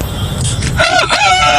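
A voice imitates a rooster crowing in one brief, loud, close cock-a-doodle-doo that rises into a strained, warbling high call.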